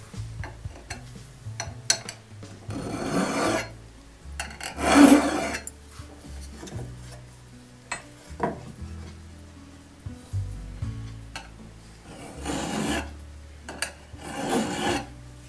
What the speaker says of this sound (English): When I'm filing the spurs, I always want to run the file this direction.